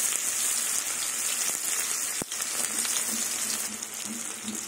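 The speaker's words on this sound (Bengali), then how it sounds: "এবার পেঁয়াজটাকে ভেজে নেব। পেঁয়াজটা লাল লাল করেই ভাজবো।" Chopped onions fry in hot oil with black cumin and green chillies, giving a continuous bright sizzle with a brief sharp click partway through.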